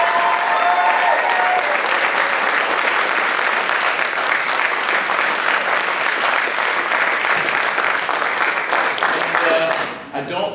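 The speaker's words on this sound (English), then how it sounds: "a round of applause for everything these guys have accomplished here tonight" Sustained loud applause from an audience cheering performers at a 2018 May showcase, dense clapping running steadily for about ten seconds before tapering at the end.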